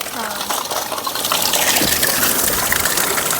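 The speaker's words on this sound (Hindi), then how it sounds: "हमें दिख गया ये पानी का स्रोत, तो बर्तन धुल लेते हैं यहाँ मस्त एकदम।" Water gushes steadily from a leaking makeshift water source on a cold, rainy night on the road to Badrinath, a broad continuous rush that swells louder midway while dishes are washed nearby.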